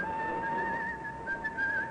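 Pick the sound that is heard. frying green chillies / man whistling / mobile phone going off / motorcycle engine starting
man whistling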